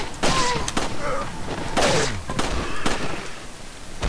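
Gunfire in the Resident Evil 4 video game, a handful of sharp game gunshots and thuds spread over a few seconds with someone talking over them.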